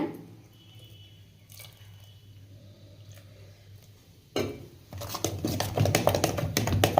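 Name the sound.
water added to sorghum idli batter and mixed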